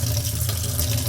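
Kitchen tap water runs over a ball, a brief steady splashing hiss of flowing water, close and alone.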